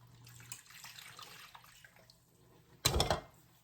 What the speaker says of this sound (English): add my 2 cups of water